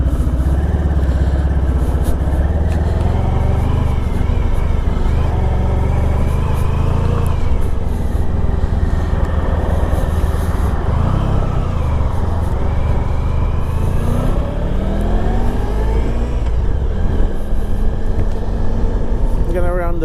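A 1994 Honda ST1100 touring motorcycle runs steadily up close for the whole stretch, its engine droning and rumbling as the rider pulls away and rises and falls in pitch, with a voice speaking over it.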